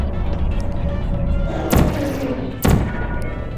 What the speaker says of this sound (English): Moving wall. Cool.